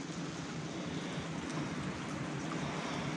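Steady rushing of water pouring out at a red-coloured lake in Chitral, a dense, even wash of flowing water held constant and fairly near, with no voices.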